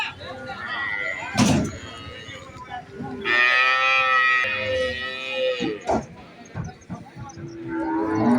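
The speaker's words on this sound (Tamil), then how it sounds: "காளை நல்ல பெரிய காளை" Cattle at a village cow market in Valliyoor, Tirunelveli, give a drawn-out, harmonic moo in the middle, with sharper animal calls and knocks around it and people talking nearby.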